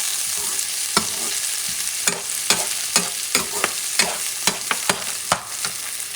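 Pork chops and pitted olives sizzle in olive oil in a pan, a steady hiss punctuated by a dozen sharp scraping and tapping strokes of a utensil, close and loud.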